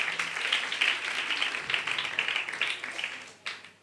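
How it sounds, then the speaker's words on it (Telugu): Church congregation at a gospel meeting clapping together, a dense, steady patter of many hands that holds for several seconds before briefly thinning and swelling again. "చప్పట్లు కొట్టి దేవుని మహిమపరుద్దాం"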